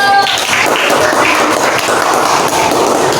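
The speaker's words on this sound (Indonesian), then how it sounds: "Kasih tepuk tangan ke." A classroom of students claps for a classmate about to present, making a dense, steady patter of many hands that stays close and loud throughout.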